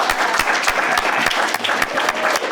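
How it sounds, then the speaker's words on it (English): An indoor crowd at an honors night claps loudly and continuously for an honoree, a dense, even wash of applause throughout. "Give him a round of applause."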